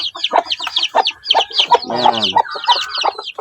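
A gentle mother hen clucks among her eight-day-old chicks, close and clear in quick repeated bursts, with high peeping chirps layered over the steady clucking.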